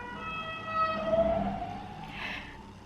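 An ambulance siren wails past, its rising and falling tone sweeping across the clip at moderate distance over steady background noise, with no one speaking.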